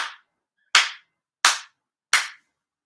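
Four sharp ritual hand claps at a Shinto prayer service, evenly spaced about two-thirds of a second apart, each crisp and close with a short decay, separated by silence.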